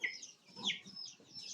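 Month-old decorative-breed chicks on a poultry farm give a quick run of high chirps and soft clucks, several close overlapping calls across a short moment with no talking.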